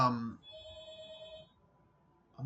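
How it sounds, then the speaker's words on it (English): A home doorbell rings once with a clear electronic tone that sustains and fades, framed by bursts of someone talking at the start and end. "Someone just rang my bell."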